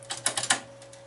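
A game button on a pinball machine in self-test mode being clicked, giving a quick run of several sharp, close clicks followed by fainter ones, with no talking.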